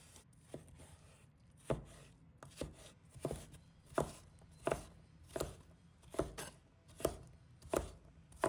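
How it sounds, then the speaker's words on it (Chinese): A knife dices cucumber into small pieces on a cutting board, with a dozen or so crisp, evenly spaced chops ringing out close and clear and no talking. "把它切成小粒。"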